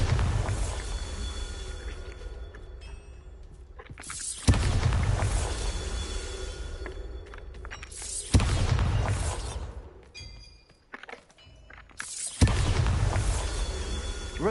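Three loud, near blasts from the Bombarda spell in Hogwarts Legacy, each a sudden booming burst that rumbles and decays over several seconds, with a brief quieter gap and crackle between the second and third.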